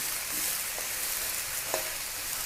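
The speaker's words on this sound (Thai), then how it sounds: "พอผัดไปผัดมาสักพักมันจะยุบนะคะ ไฟแรง ๆ ไฟแรงเลยค่ะพลิกกลับด้านเนาะแบบนี้เลยนะคะ" Cabbage stir-fried in a wok over high heat, a loud continuous sizzle and hiss with a few soft scrapes as the leaves are turned, no talking.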